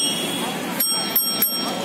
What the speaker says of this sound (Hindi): एक ये है जिसमें साइकिल की घंटी जैसा है